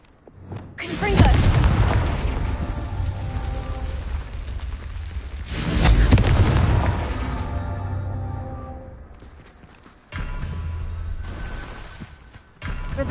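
In Hogwarts Legacy, the Confringo fire spell sets off heavy booming explosions, two long rumbling blasts and then a third, loud and close, with sustained roaring decay.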